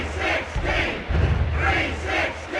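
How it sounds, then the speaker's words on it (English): A wrestling arena crowd in the WWF War Zone game on PlayStation roars in loud, swelling waves of cheering and chanting, pulsing a few times over a steady crowd bed. "Listen to this crowd."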